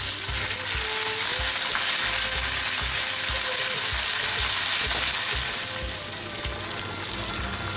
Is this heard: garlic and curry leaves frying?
yes